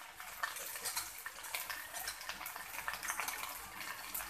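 Okra being stirred through a hot tempering in a pan, a soft close sizzle with repeated scraping and shuffling strokes, fairly quiet and steady over a few seconds.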